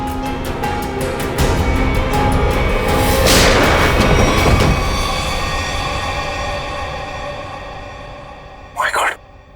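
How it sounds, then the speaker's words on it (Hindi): Single sharp gunshot in a TV crime drama scene, a man shooting himself, a loud boom that rises over a rumbling background with voices around it, followed by a brief burst near the end. "सर, इसने अपने आप को गोली मार दी।"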